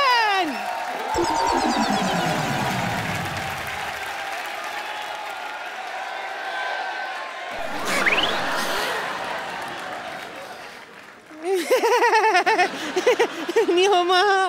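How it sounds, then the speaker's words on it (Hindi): On The Kapil Sharma Show, a studio audience greets a guest's entrance with bursts of applause and cheering, loud and close, broken by music stings and laughter between the rounds of clapping. "तो जोरदार तालियों में स्वागत कीजिए"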